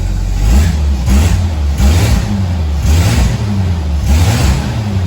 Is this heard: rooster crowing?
no